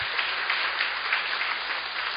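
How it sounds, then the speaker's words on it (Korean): A church congregation claps together in a steady wash of applause, moderately loud and continuous, with no voices over it. "감사하다고 박수 한번 주시기 바랍니다"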